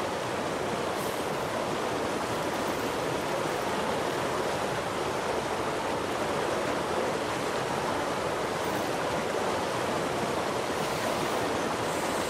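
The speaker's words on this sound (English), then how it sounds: "Waterfall." A waterfall roars in the fishing video game Call of the Wild: The Angler, set in Africa, with a steady, dense rush of falling water throughout and no talking.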